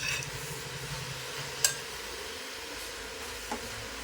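Sorrel leaves (gongura) frying lightly in a pan make a soft, steady sizzle, with one sharp utensil clink partway through and a fainter tap near the end.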